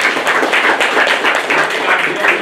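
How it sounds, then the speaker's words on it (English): A canned applause clap track plays loud and close, with dense, steady clapping from many hands that keeps going for the whole stretch without a break. "That is a clap track."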